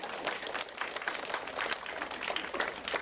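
Scattered, moderately quiet hand clapping from a small group runs continuously in uneven bursts for a few seconds.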